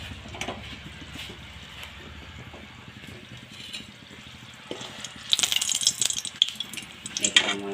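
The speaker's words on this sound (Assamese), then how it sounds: "এতিয়া মাছ ভজা তেলখিনিতে মই এয়া 2টা শুকান জলকীয়া দিছোঁ।" Two dry red chillies frying in leftover fish-frying oil, a soft crackle and sizzle close by that grows louder and spattering toward the end, with faint stirring and rattling.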